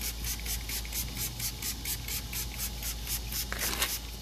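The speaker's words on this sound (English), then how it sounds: "let's go ahead and start spraying this thing down." A hose sprays water over a car engine during a degreaser cleaning, a steady close hiss pulsing in rapid bursts throughout with no talking.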